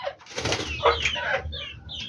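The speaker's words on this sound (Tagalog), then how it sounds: "Ayan yung mga alaga nating kalapate bago." Pet pigeons close by, soft cooing and fluttery calls with a rustle of movement, fairly quiet and alone without talk.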